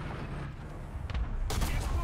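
Tank cannon fire in War Thunder, with a soft report early on and then a sharper, louder blast near the end over a steady low rumble, heard close amid faint talk.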